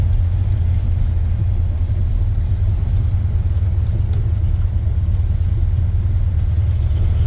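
A 1986 Ford F150 with a 351 Windsor V8, NP435 manual gearbox, glass pack mufflers, long-tube headers and X-pipe exhaust rumbles steadily and loudly from close by throughout, a deep continuous low drone with no talk.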